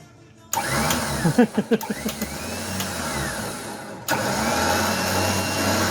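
Electric winch on a truck being tested, a steady mid-pitched motor whine that starts abruptly, runs with a few rhythmic surges early on, cuts out briefly, then resumes at a constant loud level; no talking.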